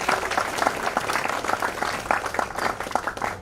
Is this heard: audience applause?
yes